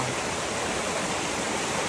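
A river runs through a forest of mahogany trees, giving a steady, unbroken rush of flowing water, fairly close and even in level, with no voices over it.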